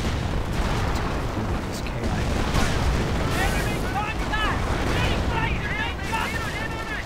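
Rocket fire and explosions from half-tracks clearing an emplacement in a real-time strategy battle game, a dense, continuous roar of blasts and gunfire with chirping unit effects layered on top, loud throughout.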